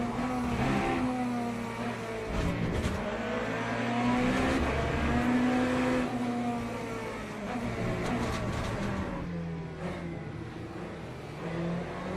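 A Porsche race car in the Le Mans Ultimate racing game at Portimao roars past with a sustained, rising and falling engine whine over the player's own car engine, loud and continuous for about twelve seconds.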